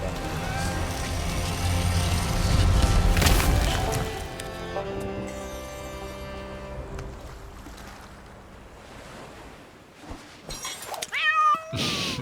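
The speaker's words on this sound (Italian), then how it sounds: "il gatto" A cat meows a few times, short and close, near the end of a stretch of busy pirate game sounds in Sea of Thieves, following louder crashing and mechanical noise earlier.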